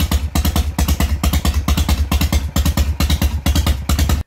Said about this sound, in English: you cannot beat the lope of a carburetor-fed Harley-Davidson idling down around 600